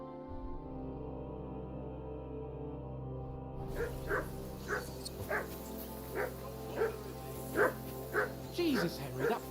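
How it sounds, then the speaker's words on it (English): Dog barking in the medieval video game Kingdom Come: Deliverance 2, a series of repeated barks at a steady, insistent rhythm, getting louder toward the end over a low background hum. "Henry, that barking's driving me nuts"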